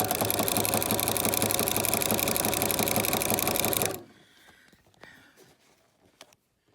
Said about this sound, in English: I'm doing a zigzag stitch, but I have to guide it in with both hands